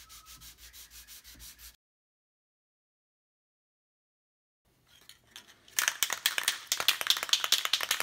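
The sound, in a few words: sanding guitar kit headstock with high grit sandpaper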